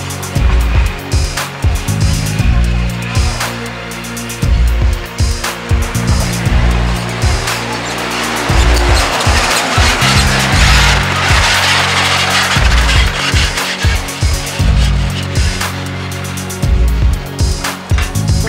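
A Can-Am Maverick 1000 Turbo off-road vehicle drives at an off-road trade fair, its turbo engine a loud, steady roar with rising and falling revs and gear changes running throughout.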